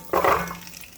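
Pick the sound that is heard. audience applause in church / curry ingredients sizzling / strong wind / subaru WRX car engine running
curry ingredients sizzling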